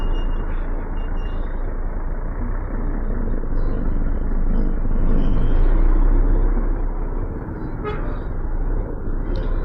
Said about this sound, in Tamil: சரியான டிராஃபிக் மக்களே.